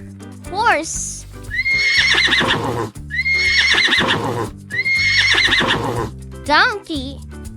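A horse whinnies twice, once near the start and again near the end, each a rising-and-falling neigh, with clip-clopping hooves and other busy sounds between.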